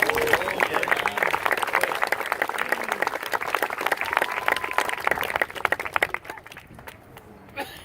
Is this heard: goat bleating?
no